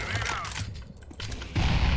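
Gunfire from a competitive team shooter game during an esports match, with sharp bursts of shots late in the moment that follow stretches of excited talk by players.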